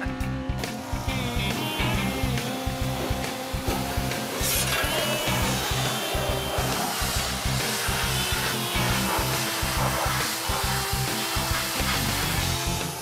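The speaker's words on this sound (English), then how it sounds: "Never before have I used one to clean the centrifuge on an olive oil press." Pressure washer cleaning the centrifuge of an olive oil press, a steady loud mechanical drone with rhythmic pulsing and hissing spray, running continuously and close by.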